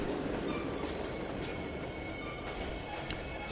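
A train in the Trainz 2019 simulator rolls to a stop, with a steady rumble of wheels on rail, faint clicking and high squeals over a constant mid-level din.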